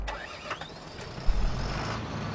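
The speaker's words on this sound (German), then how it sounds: "ich sollte mal Motor anmachen" A tractor engine cranks and starts in the farming game Landwirtschafts-Simulator 13, a quiet whine that ends in a low rumble as the motor catches and settles into a steady idle, with no voice over it.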